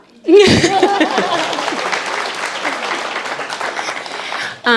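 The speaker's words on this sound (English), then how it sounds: "You can clap." Audience applause at a guide dog graduation ceremony, a sudden burst of crowd clapping that starts just after a brief voice and carries on at an even level before cutting off.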